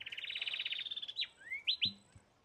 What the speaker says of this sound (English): that's gray-capped warbler